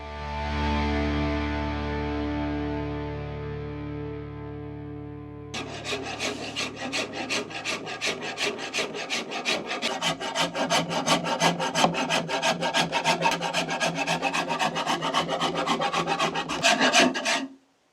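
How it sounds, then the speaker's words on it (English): Rasp filing the wood of a traditional bow in a workshop, preceded by a low humming tone, then a fast series of rough rhythmic scraping strokes that continue steadily and close up until they stop abruptly. "Now, time to go to the shop and rasp."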